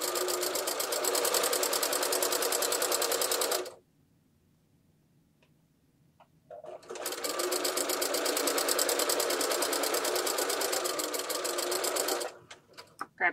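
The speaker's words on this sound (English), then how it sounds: "I'm lining up the line with my foot here, and I'm sewing 1/4 inch down" A sewing machine chain-pieces half-square triangles for a Valentine heart quilt block, running in two long, fast, rattling bursts separated by a few seconds of near silence.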